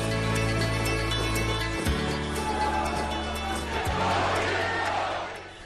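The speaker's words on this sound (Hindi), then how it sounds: "रह रहकर हॉल तालियों से गूंज उठता और बार बार मोदी मोदी के नारे जोश को दोगुना कर जाते" A dense crowd of thousands packed into an auditorium roars with applause and rhythmic chanting of Modi's name, greeting the Indian Prime Minister. The sound stays loud and continuous with steady low rumbling swells, then fades slightly at the very end.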